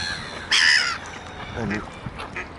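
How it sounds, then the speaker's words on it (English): A young mallard duck gives a short loud quacking call near the start, followed by quieter talk and faint background sounds. "It's a mallard duck, sorry, it wasn't a different bird"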